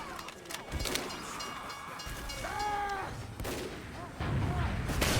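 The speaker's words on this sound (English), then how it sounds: "Train, take me to the other side." A train rolls past on the Banana Bay map in Team Fortress 2, a loud rumbling passage with horn-like tones, layered among game gunfire and effects.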